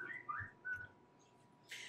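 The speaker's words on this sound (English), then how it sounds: "that's somebody whistling at me for a minute" A person whistles a few faint, short, rising notes in a quiet room, with light knocks and a soft hiss underneath.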